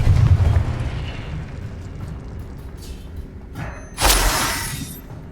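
A Confringo spell explosion in Hogwarts Legacy: after a low rumble of game ambience, a single sharp, loud blast bursts out near the end and trails off briefly.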